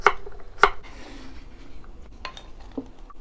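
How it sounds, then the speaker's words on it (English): A few sharp knife chops on a cutting board as vegetables such as zucchini are cut into bite-sized pieces for soup, two crisp hits early and then lighter scraping and tapping, close and without speech. "Now I'm chopping up the vegetables for the soup"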